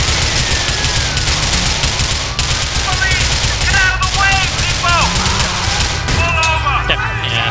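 Gunfire aimed at a police officer in Grand Theft Auto IV, rapid repeated shots layered over loud game music and street ambience, with a few sharp bursts standing out near the middle and the end.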